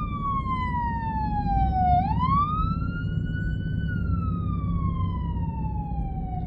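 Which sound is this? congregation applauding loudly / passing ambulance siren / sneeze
passing ambulance siren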